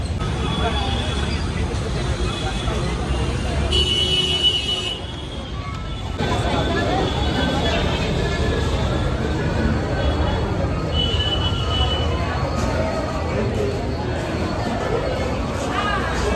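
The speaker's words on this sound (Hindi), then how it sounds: "बहुत ज़्यादा भीड़ है यार" Dense crowd chatter fills a busy pilgrimage spot at Rameswaram, a steady murmur of many voices close around with clattering movement, dipping briefly before resuming at full density.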